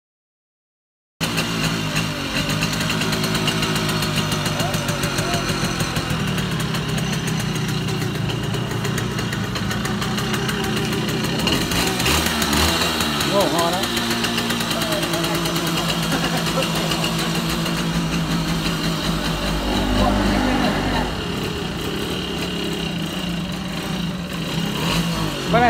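A Simson motorcycle engine idles steadily at close range in a rural northwest Vietnam setting, its mid-pitched putter swelling briefly into revs around the middle and again near the end, with no talk over it.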